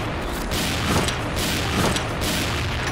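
Dragon Eye sniper rifle fire in the shooter game XSHOT during a team deathmatch on a harbor map: several heavy, booming shots land about a second apart over a dense, continuous wash of game noise.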